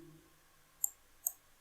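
Two crisp computer mouse clicks sound close and faint in a quiet room while someone fills in an income tax return form online, spaced about half a second apart.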